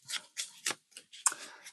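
A deck of tarot cards is riffle shuffled by hand, a few quick soft ruffling bursts of cards flicking together at close range, faint and brief with short gaps between them.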